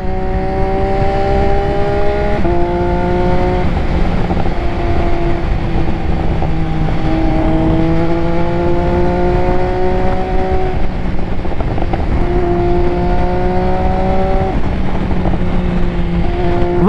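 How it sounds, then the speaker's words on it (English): A motorcycle fitted with an SC Project exhaust is ridden on the road, its engine note rising through gears in repeated climbs and shifts, loud and close over steady wind rush. "that SC Project exhaust sounds good"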